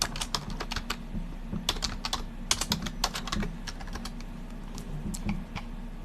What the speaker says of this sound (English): like he's watching the typing